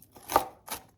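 A knife chops walnuts finely on a board, two or three quick close cuts at a brisk rhythm, alone and fairly quiet.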